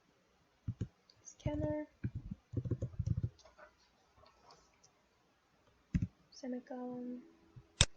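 Keyboard typing while writing Java code, heard as short bursts of key clicks mixed in among a man's speech, with quiet gaps between the bursts.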